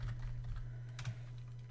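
Typing on a computer keyboard, a few soft key clicks and a short burst of taps over a low steady hum, fairly quiet.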